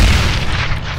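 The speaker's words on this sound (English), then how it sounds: "Grenade out." Grenade exploding in Counter-Strike: Global Offensive, a single heavy close boom with a deep low rumble that fills the whole moment.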